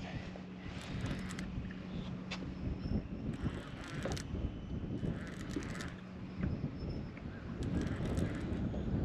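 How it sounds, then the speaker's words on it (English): Strong wind blows outdoors during an early morning spring fishing trip, a constant buffeting rumble on the microphone with a low hum and occasional faint creaks and rattles, no voices. "Cause the daggum wind's really cranked up on me."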